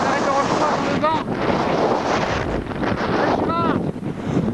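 Very strong wind in the Alps buffets the microphone with a steady, loud roar and gusting rumble throughout, and a couple of brief voices cut in underneath.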